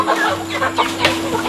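Chicken clucking close by in a rural yard, a string of short rapid clucks with a steady electrical hum underneath and no talking.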